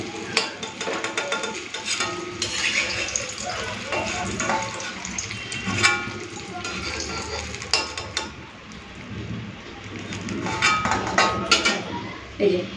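Eggplant frying in hot oil, a crackling sizzle under clattering utensils and kitchen bustle, with bursts of stirring and scraping throughout.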